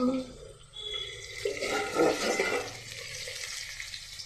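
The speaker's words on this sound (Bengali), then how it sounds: "এই টমেটো একটু অনেকটা ভাজা ভাজা হয়ে এসছে" Tomatoes fry in a pan with a soft, steady sizzle and bubbling close by, mixed with a faint murmur of background sound.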